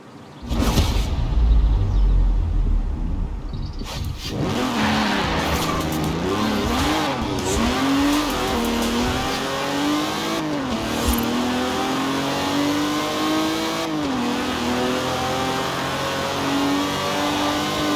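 In the Forza Horizon 4 racing game, a car engine revs hard and loud after a brief quiet start, then holds a sustained, wavering high-revving roar with pitch rising and dipping through shifts.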